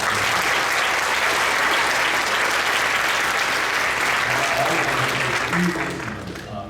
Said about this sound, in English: So round of applause for them as they start.